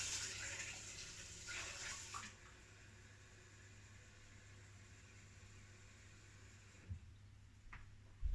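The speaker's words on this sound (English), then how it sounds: "So we are refilling water." Steady broadband rush of running water pouring into a Philips LatteGo coffee machine's water tank, fairly quiet, with a brief louder burst at the start and a few small clicks near the end.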